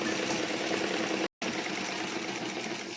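Continuous close mechanical whirring and rattling from a sewing machine stitching a blouse, with one sudden brief stop before it runs on steadily.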